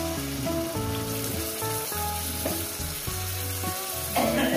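Onions and spice-paste water fry in a pan for chicken kosha, a steady sizzle running beneath prominent background music throughout.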